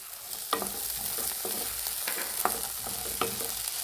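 Cut green beans, carrot pieces and flat beans being stir-fried in a pan for Bhogi bhaji, a steady close sizzle with spatula scrapes and taps at irregular intervals.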